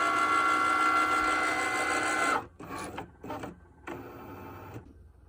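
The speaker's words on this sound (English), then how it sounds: "we're going to go ahead and have the Cricut, my Cricut maker, cut it out" A Cricut Maker cutting machine cuts out photo images for ornaments, a steady loud mechanical whir with motor hum running continuously, then dropping to quieter intermittent bursts of movement near the end.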